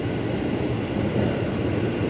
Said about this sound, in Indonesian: Itu keretanya tuh ke Bogor, 8 kereta